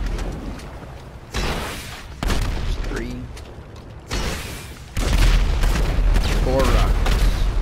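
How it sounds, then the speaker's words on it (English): Rockets fired from an RPG slam into a Kosatka submarine in GTA Online, sounding as several heavy broadband blasts spaced a second or so apart. Each one is loud and close, and a voice talks briefly between the impacts. "Now we just gotta do another durability test with the RPG. How many rockets can it take?"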